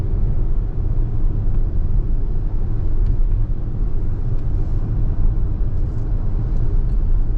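Car cabin interior at about 50 km/h during a road driving test, with a loud, constant low rumble of engine and road noise and no talking.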